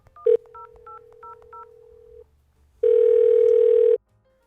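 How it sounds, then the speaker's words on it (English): Telephone number being dialed: a sharp tone burst, a run of five quick evenly spaced DTMF keypress beeps over a steady dial tone lasting about two seconds, then after a short pause a louder sustained tone for about a second. "Okay, I'll dial it again."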